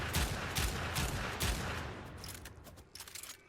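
Pyrana Prime shotgun in Warframe fires a rapid series of about four heavy, booming blasts in quick rhythm, then trails off into lighter scattered clicks and impacts, close and punchy.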